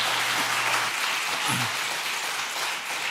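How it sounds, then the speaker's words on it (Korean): Church congregation applauding at a Korean Sunday afternoon service, a steady wash of clapping filling the room throughout, moderately loud and continuous with no talk over it. "네, 박수 해주세요."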